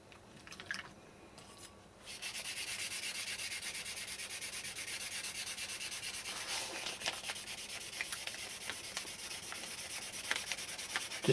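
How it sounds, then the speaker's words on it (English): Lacquer being sanded off a guitar headstock: a few light scratchy rubs, then a steady close-up abrasive scrubbing that continues without a break, with no voices. "Just sanding a bit of lacquer off the rest of the headstock just to smooth it all out."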